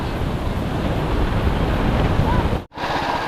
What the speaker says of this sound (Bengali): দারুণ হাওয়াও দিচ্ছে